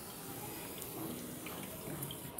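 Water poured from a container onto the soil of a potted plant makes a steady, close splashing and trickling that continues without a break.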